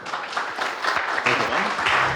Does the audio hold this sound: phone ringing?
no